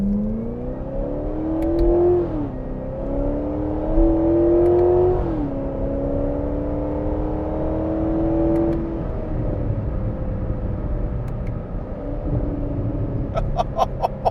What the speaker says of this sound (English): Man, I love that crackle.